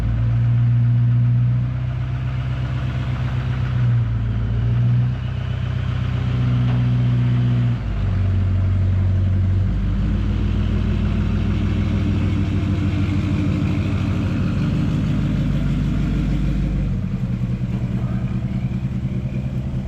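A big block V8 in a Camaro, fitted with a BTR cam, idles with a deep, loping, uneven rumble, loud and close and steady throughout with no talking.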